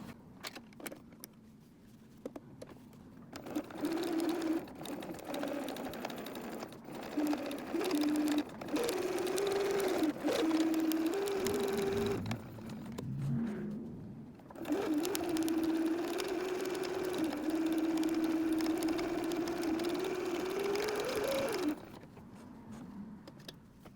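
A sewing machine stitches in the ditch along the seams while quilting a fabric bowl cozy, a close motor hum running in several bursts of a few seconds each, separated by brief pauses.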